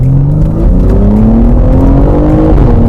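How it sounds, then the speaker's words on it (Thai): A BMW M3 Competition LCI accelerates hard through three gears, its loud, close engine note rising steadily in pitch and briefly dipping at each shift. "ลองเหยียบได้สามเกียร์พอ"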